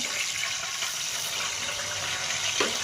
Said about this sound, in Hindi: इतना से हम पानी डालेंगे इसमें, तो चाशनी को रेडी करेंगे।